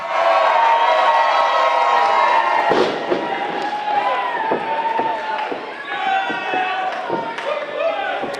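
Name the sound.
crowd cheering in Casa Loma Ballroom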